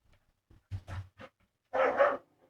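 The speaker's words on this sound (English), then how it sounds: "I bet you can hear my dog." A dog barks several times in short, separate bursts, with two quick yips followed by a louder double bark, close and alone against silence.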